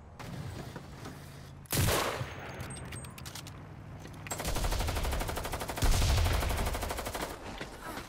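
Sustained automatic gunfire and grenade blasts from a military shooter game, with long loud bursts of rifle fire punctuated by two heavier explosive thumps and no voices.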